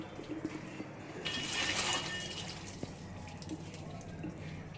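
Water running from a tap to fill a bath at home, a steady wash that swells briefly, then settles to a softer trickle. A voice speaks faintly underneath.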